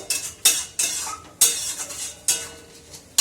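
A utensil working a thick, slightly sweet food mixture, mashing and stirring with regular scraping strokes about every half second, close and fairly loud with no talking.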